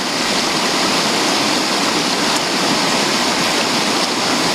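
Quartzville Creek in Oregon rushes past in a steady, loud wash of flowing water, close and unbroken throughout with no voices.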